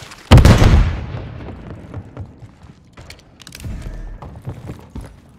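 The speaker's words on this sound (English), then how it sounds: "Stun grenade out!" A stun grenade detonates in Modern Warfare 3 Infected mode with a single loud, sharp blast that decays into a rumbling tail, followed by softer scattered game sounds and thuds.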